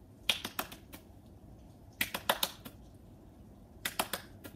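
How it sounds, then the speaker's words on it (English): Sharp hand claps in quick bursts of three or four, spaced a second or two apart between beanbag catches, soft and close in a quiet room. "see how many claps you can do"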